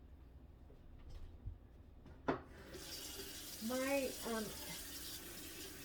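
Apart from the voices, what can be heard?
water running from loose kitchen faucet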